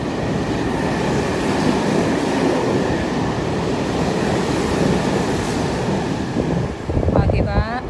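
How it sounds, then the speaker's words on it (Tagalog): A fast train roars steadily through a station close by, a constant loud rumble with wind buffeting, and a voice speaks briefly near the end. "Ayan po yung mabilis na train."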